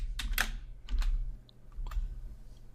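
Keys clatter on a computer keyboard as an SQL query is typed into PostgreSQL's pgAdmin 4, in quick clustered bursts of clicks with short pauses and no speech.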